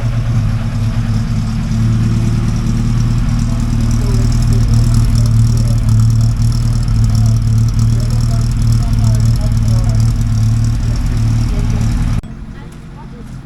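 A Lynx kit car sits warming up at idle, its engine giving a steady, close, low rumble with even pulsing that holds unchanged for about twelve seconds before cutting away abruptly.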